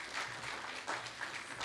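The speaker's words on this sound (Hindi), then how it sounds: "मैं सबसे पहले मेज़बान की हैसियत से आपकी पुरज़ोर तालियों के बीच डॉक्टर अजय कुमार सिंह जी को आवाज़ दे रहा हूँ" Faint audience applause at a constitution celebration event honouring Dr. Babasaheb Ambedkar, a steady patter of many hands heard from a distance with no talk over it.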